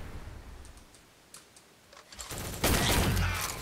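A semi-automatic gun fires in the online shooter Shell Shockers on the Bastion map: scattered quick clicks and pops build into a loud, dense burst of rapid shots toward the end, heard close with no voices.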